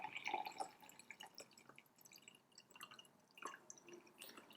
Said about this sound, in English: I'm going to go ahead and pour out the Wakamusha first because that's the one I brewed first.